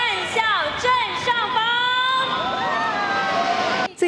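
Crowd cheering and shouting as Olympic and Paralympic athletes' parade vehicles enter the National Day ceremony in Taiwan, a dense steady roar of many voices with whistles and calls throughout.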